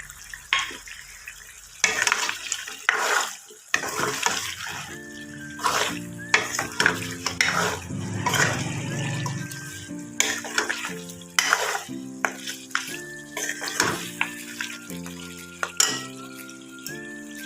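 Masala stirred into mutton karahi frying in a pan, with irregular scraping strokes and bursts of sizzle over a background music track.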